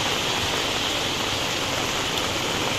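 Steady, dense rain pouring down without a break, a loud even hiss like heavy rainfall on surfaces nearby, with no voices.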